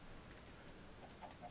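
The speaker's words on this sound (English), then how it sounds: "Not letting that chicken out." Minecraft chicken clucking faintly in the video game, a couple of soft short clucks near the end over a quiet background hiss.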